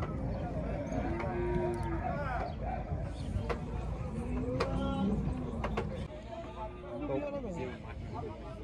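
Cattle moo repeatedly at a livestock market in Monte Alegre, drawn-out lowing calls rising over a steady din of crowd babble, with people talking nearby throughout.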